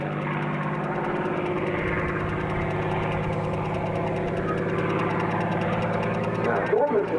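A P-40N Warhawk flies at a National Warplane Museum airshow, its piston engine giving a loud, steady droning roar that stays constant throughout, with a voice talking over it.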